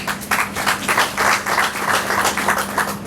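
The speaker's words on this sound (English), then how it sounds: "A round of applause for yourselves." Applause from the audience at a peace summit in Ghana, a brief burst of clapping with pulsing swells, fairly close and steady throughout, with a low steady hum beneath.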